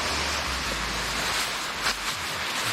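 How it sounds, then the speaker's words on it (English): Ocean waves roll up a beach with steady broadband surf and a slight rise of wash partway through, heard from close by with light wind and no voices. "The waves are nerving because they keep creeping closer and closer towards us."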